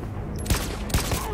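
Gunfire in the video game Detroit: Become Human: three sharp, loud shots spaced unevenly over a steady background of game ambience, with no talking.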